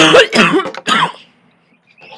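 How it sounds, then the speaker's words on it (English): A few harsh, throaty coughs close to the mic, clustered together, then quiet. "Hold up. I'm coughing."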